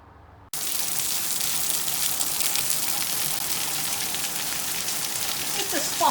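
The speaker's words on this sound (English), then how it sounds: "Just a spot of rain." Light rain falls in a steady, even hiss that begins abruptly and continues without a break.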